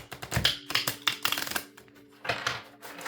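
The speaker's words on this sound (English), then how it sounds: "I'm going to shuffle some cards here." Rapid riffling and clicking of tarot cards being shuffled in several short bursts, close and crisp, with brief pauses between.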